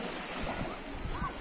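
Sea waves wash onto Enez Altınkum beach in Edirne at sunset, a steady broadband surf roar with wind buffeting the microphone throughout.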